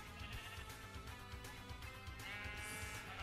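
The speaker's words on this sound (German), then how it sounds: "Hey, Schaf." A sheep in Minecraft gives a few short bleats over a constant background of game ambience and music, moderately loud and close.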